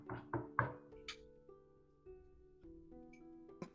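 A door knock played as a sound effect in a tabletop role-playing game, three firm knocks in quick succession, close and clear over a quiet background, followed by faint tonal sounds.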